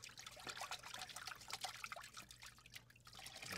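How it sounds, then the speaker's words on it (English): Water trickles and splashes over a new diving mask as it is rinsed, a faint, steady running stream with small irregular drips and spatters, close by and alone. "All right, we'll rinse off our mask."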